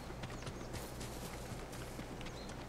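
Horse hooves clip-clop in the video game Ghost of Tsushima, a quiet, steady trot of soft regular thuds over a low ambient game background.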